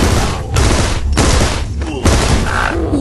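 Rapid bursts of gunfire in the Rocket Birds video game, loud overlapping volleys in quick succession with short gaps between them and brief synthetic tones mixed in.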